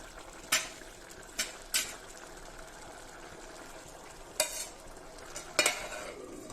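Tomato rice being stirred in a cooking pot, with several sharp scraping clatters of a spoon against the pan spaced over a soft, steady sizzle of the rice cooking underneath.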